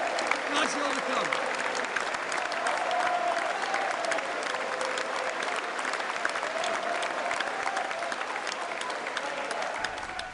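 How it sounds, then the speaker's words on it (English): A large crowd at a Brexit-era political rally claps steadily and continuously from start to finish, a dense and fairly even wash of hand claps that holds roughly the same loudness throughout, with faint voices mixed in. "While everyone else is clapping in unison"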